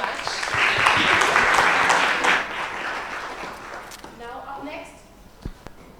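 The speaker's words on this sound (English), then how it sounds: "let's give her a round of applause" An audience at a research presentation competition applauds loudly for a few seconds, then the clapping thins out and fades, leaving scattered claps and a brief thump near the end.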